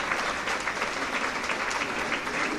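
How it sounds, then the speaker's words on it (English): Steady, dense audience applause at an LGBTQ Victory Fund brunch, many hands clapping continuously throughout at an even level with no talking. "Now, you can clap for that."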